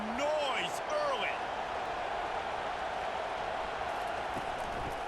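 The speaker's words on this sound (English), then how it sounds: "This crowd bringing the energy and noise early." Stadium crowd roaring steadily at a Florida vs Florida State game in College Football 25, a dense continuous wash of cheering with a commentator's voice briefly over the start.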